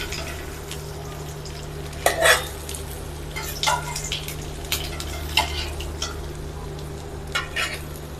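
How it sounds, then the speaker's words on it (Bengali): Hilsa fish fries in oil with a steady sizzle, broken by several sharp clatters of a utensil against the pan. "মাছগুলো ভাজা হচ্ছে ভালো করে তেলের মধ্যে"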